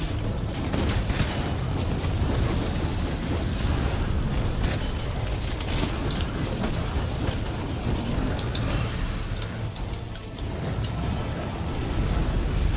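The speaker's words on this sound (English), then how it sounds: "Oh, he did the explosion. The mini explosion." Teostra's mini explosion in Monster Hunter World, heard as a continuous dense rumble of crackling bursts and blasts throughout, loud and unbroken with no talk over it.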